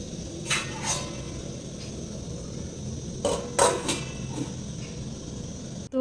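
A lid goes onto a pot of simmering egg curry in a home kitchen, giving a few light metallic clinks and clatters spread across several seconds over a low, steady background hum.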